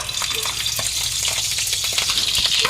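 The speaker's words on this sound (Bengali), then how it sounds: "এখন মাছগুলো একটু ভেজে নিই" Giant freshwater prawns fry in a pan for a coconut curry, giving a steady, close, hissing sizzle with small crackles and spatters throughout.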